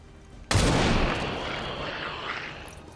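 Gunfire in XCOM 2 erupts as one sudden loud blast, its rumbling boom and crackle decaying slowly over a few seconds after a quiet lead-in, with no voices.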